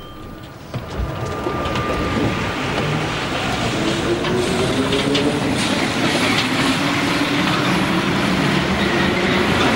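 A metro train rumbles along loudly, its steady roar and rattling wheels building after the first second, with a faint rising whine.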